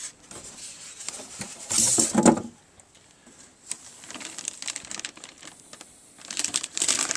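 Plastic wrapping being pulled and crinkled off a Behringer X1622USB mixer, with a loud burst of crackling rustle followed by quieter intermittent crinkles and a second flurry near the end, up close with no talking.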